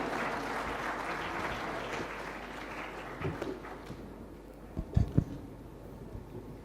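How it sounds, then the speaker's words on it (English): An audience applauds at a deep tech innovation conference in Visakhapatnam, a broad, steady wash of clapping that thins out toward the end, leaving a few louder scattered claps. "Please give a loud round of applause"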